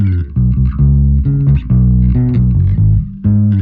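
Electric bass played without compression, loud and close, with a quick line of deep, round notes in an uneven rhythm and short gaps between phrases.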